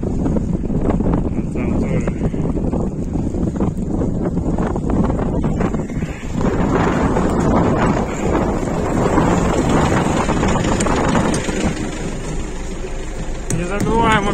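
MTZ-82 tractor driving through snow in a village, a steady rumbling engine and wind-buffeted noise running continuously close to the microphone, with a voice speaking over it.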